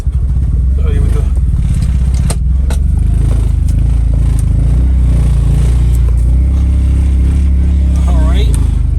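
A once-stolen road race car's engine runs loud and close, with a steady rumbling drone that swells as the car starts driving under its own power, while people talk over it.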